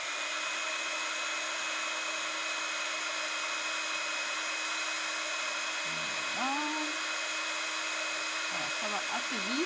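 A heat tool blows steadily as it melts embossing powder, a loud continuous whirring hiss that runs throughout, with faint brief voice fragments near the end.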